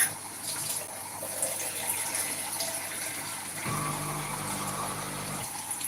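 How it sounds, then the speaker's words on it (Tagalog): Water pours steadily into the water tank of a home coffee machine, a continuous faint gushing trickle that shifts pitch slightly partway through. "Kailangan ako mag-refill ng tubig"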